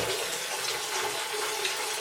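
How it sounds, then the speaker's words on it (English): Water sprays and splashes from a leaking fitting during setup of an Aqua Ionizer Deluxe 7.0 water ionizer, a steady, close, hissing rush with no pause. "Water's going all over the place."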